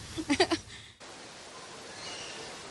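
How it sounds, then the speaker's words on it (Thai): Floodwater rushes through a flooded town in Pak Thong Chai district, a steady broadband roar that runs unbroken after a brief voice at the start. "มวลน้ำไหลเชี่ยวยังคงหลากเข้าท่วมชุมชนในเขตเทศบาลเมืองเมืองปักอย่างต่อเนื่องครับ"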